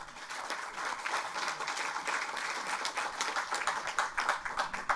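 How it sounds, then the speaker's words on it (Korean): Audience at a political party gathering applauds its floor leader and team, sustained even clapping from many hands at a moderate distance, with little talk over it. "큰 격려, 감사의 박수 크게 부탁드립니다."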